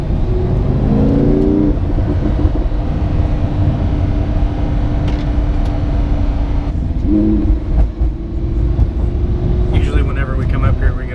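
Lamborghini Huracan accelerating hard with a loud, sustained engine drone, a rapid gear change about two seconds in and another near seven seconds, under steady road and wind noise.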